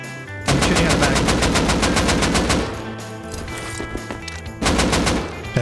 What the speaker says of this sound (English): I'm shooting at the bag.